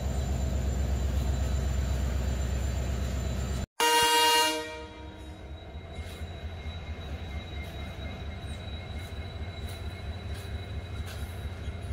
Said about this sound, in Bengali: 12টা 24-এ ট্রেন ছাড়ছে বাড়িগ্রাম থেকে, যেহেতু ট্রেন লেট।